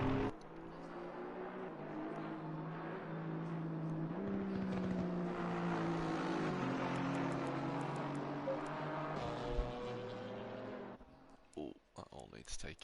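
GT4 race cars, including an Aston Martin chased by the leader, lapping Laguna Seca. Their droning, shifting engine tones hum steadily beneath continuous spoken commentary, then fade near the end.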